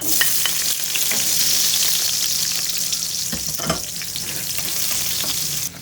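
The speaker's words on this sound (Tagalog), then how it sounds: "So, garlic oil na yan. Pwede na natin idagdag itong onion." Onion fries in garlic oil with a loud, steady hiss and crackle close by, as occasional stirring taps and scrapes sound over the sizzle.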